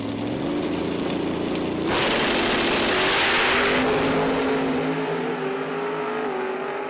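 A Pro Stock drag racing car roars at a drag strip during a PDRA Northern Nationals event, its engine note climbing as it launches, with a sudden loud blast of broadband noise midway before the sound settles back to a steady engine drone.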